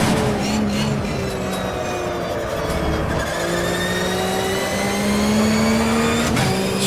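A Boxercup race car with an H-pattern gearbox laps the Goiania track, its engine loud and close inside the cabin, with rising revs, gear changes and sustained acceleration throughout.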